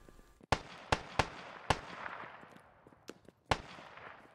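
Grenade blasts in a multiplayer shooter game, several sharp, loud bangs in an irregular sequence, each trailing off into a fading rumble against a quiet background.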